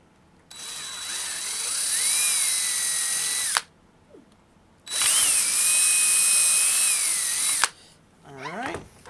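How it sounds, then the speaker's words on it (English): A power drill with a 1/4 inch bit bores holes for drum lug mounting, with two loud, close whining runs of about three seconds each separated by a pause, and a brief voice at the end. "So I've got a 1/4 inch bit, and I'm just going to go in there and carefully"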